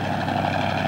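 A Fieseler Storch light aircraft climbs away at Old Warden airfield, its propeller engine giving a steady, moderately loud drone with no voices.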